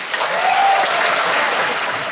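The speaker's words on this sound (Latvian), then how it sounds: "Jā, un aplausi Laurim Brīnikam." Audience applause at the Miss and Mister Rēzekne 2012 beauty pageant, a loud, steady wash of many hands clapping that holds unbroken for about two seconds.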